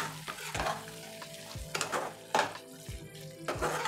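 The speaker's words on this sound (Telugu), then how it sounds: "ఈ నిమ్మరసాన్ని పచ్చడంతా మిక్స్ చేసుకోవాలి." Lemon juice is stirred through a chicken pickle in a pan, with repeated loud metal spoon scrapes and clanks against the vessel at an uneven rhythm over a soft background sizzle.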